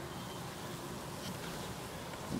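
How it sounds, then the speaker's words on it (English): Bees buzz in a dense, faint, continuous hum inside an opened beehive, with no distinct individual sounds standing out. "A few bees in there."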